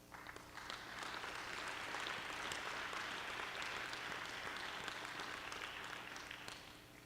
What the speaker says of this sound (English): Please give these individuals and businesses a round of applause.